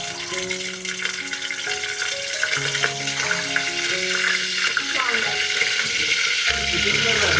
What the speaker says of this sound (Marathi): आता आम्ही तेल घालतोय. आता कढीपत्ता टाकतो.